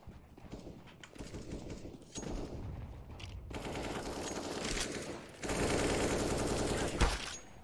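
Rapid gunfire from a shooter video game, with dense bursts and shots running throughout, loud and close, mixed with game effects and faint background voices.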